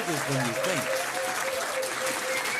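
Pub quiz crowd at The Granta applauds a team, a steady dense patter of many hands throughout, with a voice speaking over the start of it.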